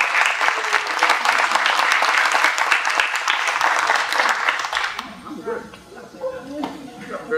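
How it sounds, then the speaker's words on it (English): An audience at a fundraising event breaks into loud sustained applause for about five seconds, which then dies away into scattered claps and room noise. "give him another round of applause"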